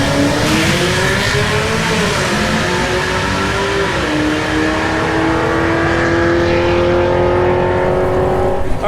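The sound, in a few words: twin turbo Chevrolet C8 Corvette drag run, full boost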